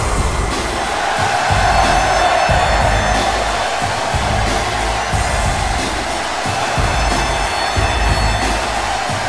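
A wrestling crowd in Stockton cheers loudly and continuously, a dense roar of voices and whoops that holds steady throughout.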